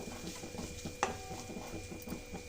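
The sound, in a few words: grated fresh coconut frying in ghee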